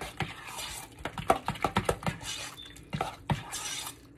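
A utensil stirs allspice, mace and nutmeg into sweet potato dump cake mixture, tapping and scraping against the bowl in a quick, uneven run of close clinks, with no talking over it.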